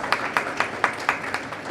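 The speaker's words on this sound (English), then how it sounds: "Round of applause, please." Scattered applause at an automotive retail AI panel event, a handful of hands clapping in a light, fairly regular rhythm, moderately close and brief.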